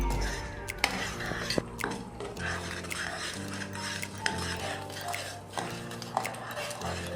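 Green masala being mixed with salt in a pan for Mangalorean-style chicken, with steady scraping and clinking of a spoon against metal and repeated sharp taps throughout, close and moderately loud.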